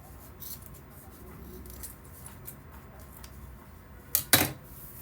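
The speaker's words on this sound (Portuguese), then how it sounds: "nós vamos cortar as rebarbas aqui," Scissors snip off excess fabric and zipper ends on a sewn vertical toiletry bag, with two sharp, close cuts near the end after quiet rustling handling.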